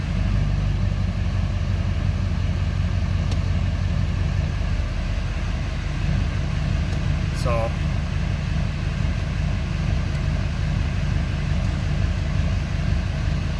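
A truck fitted with a converted Allison transmission idles nearby with a steady low rumble and hum, while someone briefly speaks over it and a faint chirp sounds midway.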